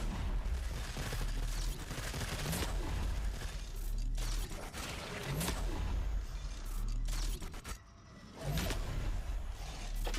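Gunfire from the video game Forever Winter, dense and continuous throughout, with booming low rumble, sharp cracks and mechanical clatter layered together at steady loud level, dipping briefly before resuming.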